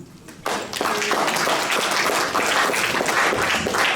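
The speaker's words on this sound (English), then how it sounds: "A round of applause for him, please" Sustained applause from an audience at an integration evening event, dense clapping starting abruptly after a brief quiet moment and holding steady at a strong level throughout.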